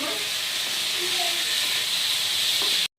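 Potato and pointed gourd sauté with spices in a hot pan, giving a loud, steady hissing sizzle up close that continues without a break and then cuts off abruptly near the end.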